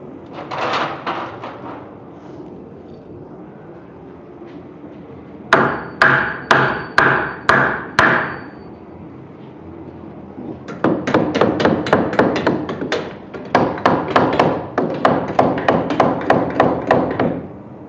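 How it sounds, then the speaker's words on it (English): A foundation nail tool drives nails into a concrete floor while framing wing walls: close, sharp, rhythmic impacts in quick bursts, a short run of hits, a pause, then longer rapid series. "It puts a nail into the concrete floor so the base of the wall doesn't flap around."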